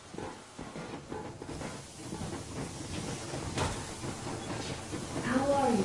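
A steam train rumbles and hisses as it gets moving in the video game Metro Exodus, a continuous mechanical roar that swells gradually, with faint voices in the mix.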